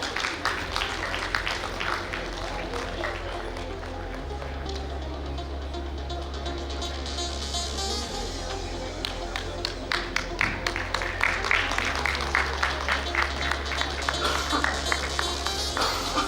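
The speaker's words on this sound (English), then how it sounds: "Let's give a big round of applause to her." Round of applause for a teacher receiving an award at an education awards ceremony, scattered clapping over a continuous low hum and background music, with a faint voice now and then.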